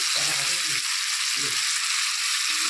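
Singi fish with ridge gourd being stirred in a hot pan, a steady broadband sizzle of frying running throughout with a few soft low scrapes of the spatula, close and moderately loud.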